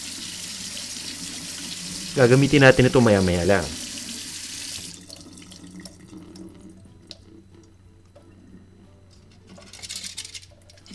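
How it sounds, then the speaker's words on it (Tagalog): Tap water gushes into a kitchen sink as beef tripe is rinsed, a loud splashing burst lasting under two seconds before it drops to a quiet background. A person speaks near the end. "Pwede rin nating hugasan pa itong beef tripe."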